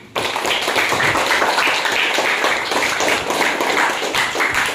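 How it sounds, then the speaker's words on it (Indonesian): A class claps together in steady, dense applause that starts abruptly and keeps up evenly at close range for a few seconds, with no voices over it. "Tepuk tangan untuk kelompok 4."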